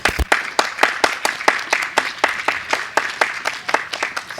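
A small audience claps and cheers as three guests are invited up at the Iron Gate Exhibition 2014, with sharp, irregular handclaps and whoops carrying on steadily at moderate loudness.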